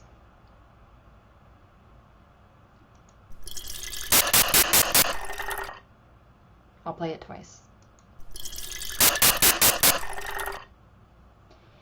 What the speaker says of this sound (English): You should perceive the water as being continuously poured with a smooth pitch throughout, regardless of the noise.